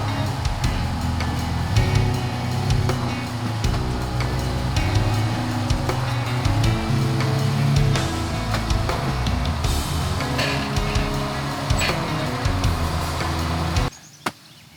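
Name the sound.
Jeep driving up onto car hauler trailer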